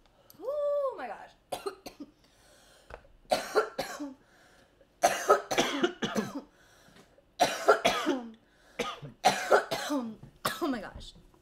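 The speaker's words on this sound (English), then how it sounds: "Oh, I'm gonna cough." A run of harsh, repeated coughs in bursts, close and loud, with a short vocal exclamation at the start and gasping pauses between fits.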